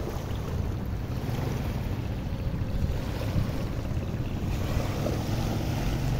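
Continuous broadband rushing of a fast-flowing flooded river and estuary in Los Ríos, Ecuador, loud and steady like crashing waves, with some wind buffeting and no voices.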